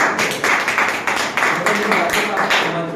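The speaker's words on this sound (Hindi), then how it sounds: "मैडम प्लीज जोरदार ताली एक बार" An audience at an office seminar claps loudly and steadily, a dense close burst of applause lasting the whole moment.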